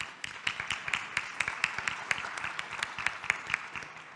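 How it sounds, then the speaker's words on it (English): A small conference audience claps for a panel, with sparse, distinct claps in a loose rhythm rather than a dense roar, fairly quiet and slightly distant. "You can please make a round of applause for all of them."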